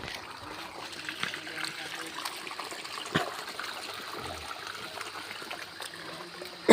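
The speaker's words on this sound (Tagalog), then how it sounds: "Yan na ilog." A river running along a muddy walking path, its steady trickling and splashing flow heard close by, with footsteps and occasional voices mixed in.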